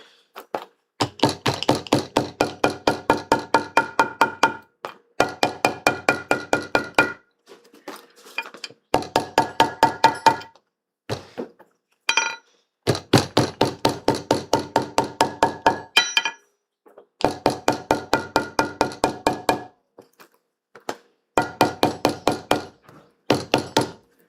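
Hammer tapping the stitching on a leather clutch: quick rhythmic bursts of sharp close strikes in repeated rows, with brief pauses between runs.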